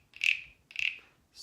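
Tiny wooden frog guiros give two quick, bright rasps followed by the start of a third, each a short, thin, high chirp, faint and close in a quiet room.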